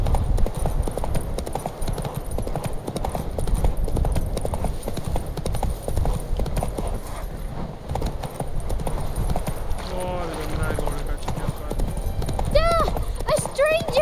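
Horse hooves clip-clop steadily in The Witcher 3, a rhythmic trotting beat under near-constant talking, with a brief whinny near the end.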